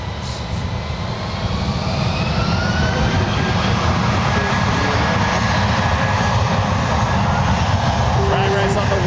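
A United airliner jet taking off at San Francisco International Airport, a loud continuous roar that holds steady and slowly shifts in pitch as it builds.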